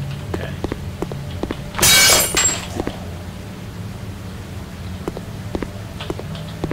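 Glass shatters once in a horror video game, a loud bright crash lasting about half a second and standing out over a low droning background with faint scattered knocks.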